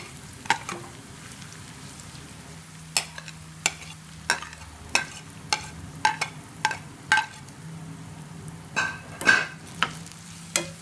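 Two medium-sized onions frying in a pan for a restaurant-style masala egg curry, a steady sizzle broken by sharp, regular clacks of a spoon stirring against the pan, close and fairly loud, with no talking.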